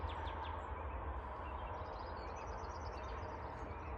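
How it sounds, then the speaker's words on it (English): Faint bird chirps and song drift in from a distance over a steady low rumble, with a few brief high calls scattered throughout. "you can hear the birds. They're ready for spring."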